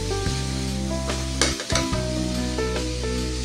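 Sautéed mung beans stirred in a hot pan, a steady loud sizzle with scraping spoon strokes and a brief clatter near the middle.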